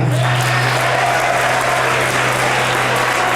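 A high school audience claps loudly and continuously for a few seconds, a dense wash of applause over a steady low hum.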